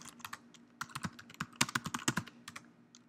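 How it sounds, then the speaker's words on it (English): Fingers type on a computer keyboard in quick, uneven bursts of close, crisp key clicks, with no talking over them. "Now if I start typing in things,"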